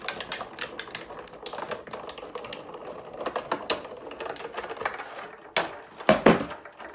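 Paper flowers cut out with a Sizzix Big Shot die-cutting machine, giving a run of close clicking, ratcheting mechanical taps with a louder clunk near the end, no talking.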